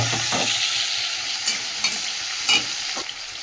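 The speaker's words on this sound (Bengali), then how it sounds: "পেঁয়াজ লঙ্কাটাকে একটু ভেজে নিলাম।" Onion and chili frying in a pan hiss in a steady sizzle, broken by a few sharp scrapes and knocks as the spatula stirs, close by with no talk.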